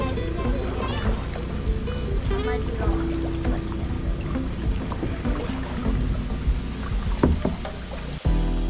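A kayak paddled out of a tight, crowded kayak and paddleboard launch ramp at Kings Landing, with close water splashes and paddle strokes under ongoing talk and background activity, ending in a sharp bump.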